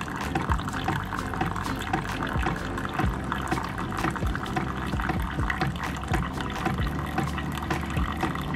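Hot water poured steadily from a kettle into a mug to brew dark hot chocolate, a continuous splashing, filling stream lasting the whole stretch, close and moderately loud with no talking.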